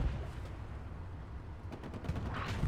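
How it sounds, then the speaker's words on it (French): Machine gun fire from a US 76mm tank in a multiplayer video game event, rapid bursts of shots over a rumbling engine, louder toward the end. "Pour les chars, marqueur infanterie, si vous pouvez faire un tir mitrailleuse."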